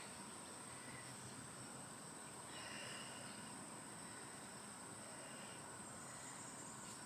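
Insects chirp faintly outdoors in a continuous, even buzz with a high, steady shrill tone running through it, distant and soft with no talking.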